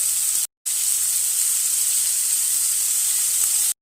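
Blanched vegetables stir-fried with salt sizzle in a hot pan, a steady loud hiss running almost unbroken with one brief cutout near the start.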